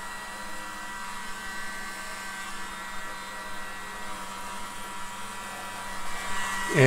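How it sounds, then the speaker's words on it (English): Constant whirring drone of a mini blower pushing pearl acrylic paint across a surface for a pearl swirl pour. It holds at a moderate level throughout and grows louder right at the end. "I am going to use a mini blower a little bit."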